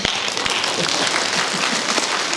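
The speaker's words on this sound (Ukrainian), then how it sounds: "Мені аплодують" An audience claps continuously at an evening stage show, a dense steady wash of applause with a couple of sharp taps near the start.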